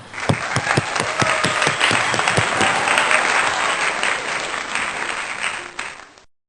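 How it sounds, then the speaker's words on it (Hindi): A congregation at a Sunday church worship service applauds after a sermon, a lively round of close, crisp claps with sharp individual hits, tapering off before stopping. "तालियां"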